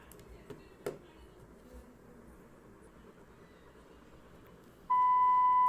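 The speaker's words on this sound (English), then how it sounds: "how to switch off that annoying beep sound" A Samsung Duos phone sounds a network service beep, one steady high electronic tone that starts near the end after faint room noise and a soft knock, loud and sustained.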